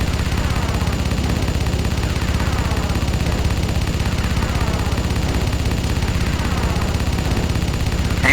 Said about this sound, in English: My guns can intercept those missiles.